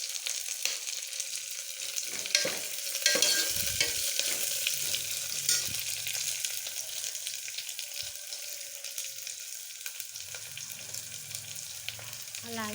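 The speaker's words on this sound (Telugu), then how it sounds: "అడ్డగా కట్ చేసుకున్న ఉల్లిపాయ ముక్కలు వేయాలి కొన్ని." Onion pieces and fenugreek seeds fry in hot oil in a pan for mudda pappu, a steady crackling sizzle broken by scraping stirs and the clink of a spoon, close and continuous without talk.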